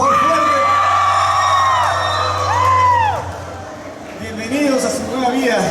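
A large crowd of university students at a concert shouts and whoops loudly together, voices rising and falling in long yells, then dipping briefly before surging again.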